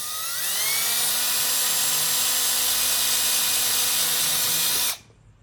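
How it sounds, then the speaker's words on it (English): A loud power drill drilling out plastic corners whines steadily for about five seconds, its pitch holding high and even, then cuts off abruptly into near silence. "let's drill these corners out"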